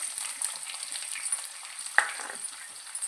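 Onions and curry leaves fry in oil for a gongura chicken curry, a soft, steady sizzle with a brief sharp clink of stirring midway, close and fairly quiet.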